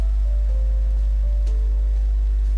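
Rain patters steadily in the Minecraft video game, a soft continuous hiss over a low droning background, alone without speech.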